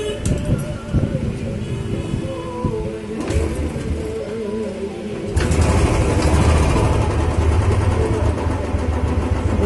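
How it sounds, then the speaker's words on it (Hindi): A repaired Royal Enfield Bullet 350cc motorcycle starts and settles into a steady, close thumping idle, with talking and background noise heard before it fires. "अब इसको स्टार्ट करके देखते हैं।"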